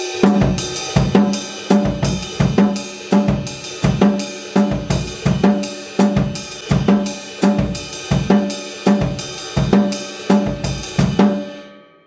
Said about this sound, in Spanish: se puede añadir charles y suena más o menos así.